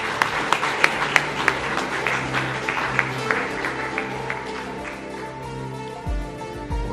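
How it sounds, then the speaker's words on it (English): Conference audience applauding to welcome a presenter, with strong individual claps at first thinning into a softer patter. Low hum and a few bumps of handling noise sit underneath, and the room settles as the clapping dies away. "And big round of applause, please, for David."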